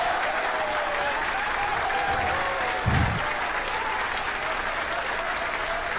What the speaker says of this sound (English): People are cheering.